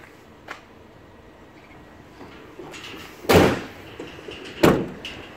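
The twin rear doors of a 2015 VW Crafter LWB CR35 163 bhp van swing open: a faint click, then two loud metallic clunks a second apart as the doors meet their magnetic stoppers, close by and without talk.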